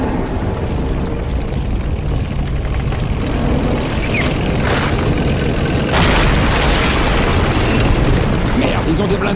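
Loud booming anti-tank gunfire and explosions crash repeatedly over a dense battle din in Company of Heroes, with voices shouting underneath.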